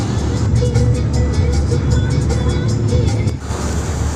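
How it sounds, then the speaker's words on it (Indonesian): A Sinarsari Bendot intercity bus travels from Serang toward Malingping, heard from inside as a loud, constant engine and road rumble. A rapid rhythmic rattle runs over it, easing slightly near the end. "Di sini saya berada di dalam bus Sinarsari Bendot jurusan Malingping, Serang, Cirebon."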